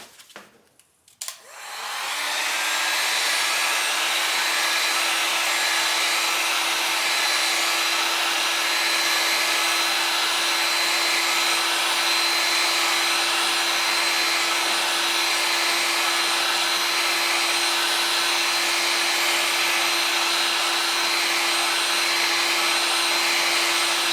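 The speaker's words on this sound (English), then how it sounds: "So we take the heat gun." A heat gun roars steadily and loudly at close range for over twenty seconds while it heats the adhesive on a mirror or light part of a 1977 Camaro Z28, starting with a click and a quick rise to full blow.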